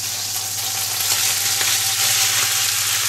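Onions and garlic frying in leftover olive oil and beef juices for Moroccan spiced meatballs, a steady close hiss of sizzling with a low hum underneath, alone without talk.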